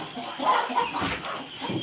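A desi village hen, a native breed at laying stage, gives a few soft, close clucks in quick succession against a quiet farmyard background.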